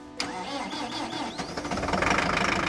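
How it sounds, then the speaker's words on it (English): A new Massey Ferguson tractor on rubber tracks cranks with a rhythmic whirring starter for about a second, then fires and settles into a rough, rising diesel idle, close and moderately loud. "he starts his new tractor,"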